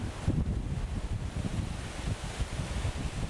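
Steady outdoor wind buffets the microphone in the sun, a continuous low rumbling roar with gusty swells and a rushing hiss above it, close and unbroken, with nobody speaking.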